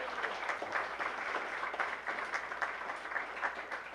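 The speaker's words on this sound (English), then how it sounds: "One more round of applause for our moderator and our candidates today." Applause rises from the audience at a mayoral candidate forum at the City Club of Eugene, honouring the moderator and candidates, as a soft, steady patter of clapping that stays fairly distant and even throughout.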